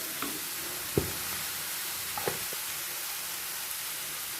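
Onion fries in hot oil with chili and turmeric powder, a steady close sizzle broken by a few sharp spatula knocks and scrapes against the pan.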